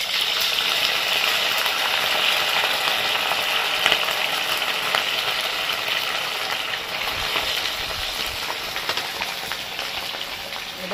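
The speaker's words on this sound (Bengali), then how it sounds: "তেলটা পুরোপুরি গরম হয়ে গেছে, এবার আমি চিকেনগুলোকে ছেড়ে দেবো।" Chicken pieces fry in hot oil with a continuous, fairly loud sizzle and crackle, bubbling steadily throughout without any talk.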